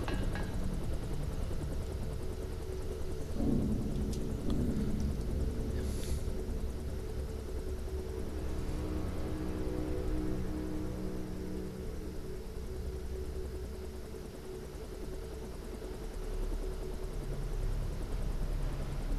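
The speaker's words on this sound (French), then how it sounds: "Le supercoptère que pilote le Jock." A helicopter flies in the PC game Deus Ex (Revision version), producing a continuous steady rotor and engine drone that stays fairly constant throughout, with no speech.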